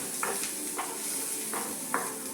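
Onions frying in a pan over low gas, with a soft continuous sizzle and four distinct stirring scrapes at regular intervals, close but fairly quiet, no speech.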